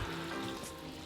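Vegetable broth poured into a pot of rice, four cups of broth to two cups of rice, makes a steady, close splashing pour that runs unbroken for about a second with no talking.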